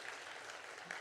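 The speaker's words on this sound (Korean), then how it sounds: "격려의 박수 한번 하겠습니다" A church congregation at a Sunday afternoon service claps in encouragement for the youth worship team, a brief, steady patter of hands at moderate distance.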